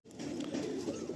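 A lively breeding pair of Madrasi pigeons gives a short, close burst of low throaty cooing lasting about a second.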